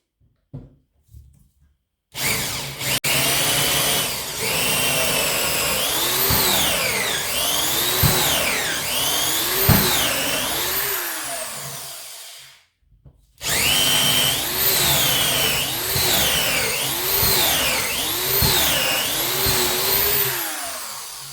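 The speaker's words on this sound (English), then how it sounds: "Now let's start drilling this wood." A Parkside PNS 300 B3 two-speed cordless drill screwdriver whines loudly in two long bursts, its pitch rising and dipping as the bit bores through wood, with a brief pause between.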